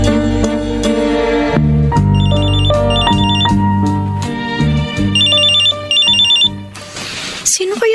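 A cellphone rings with an incoming call, its loud electronic ringtone melody repeating in bright beeping phrases over a sustained tonal backing in a TV drama scene, ending in a brief noisy swell.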